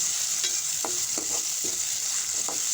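Onion, cinnamon and a ginger-garlic-chili paste fry in hot oil, giving a steady loud hiss with a few short scraping stirs of a spatula and no talk.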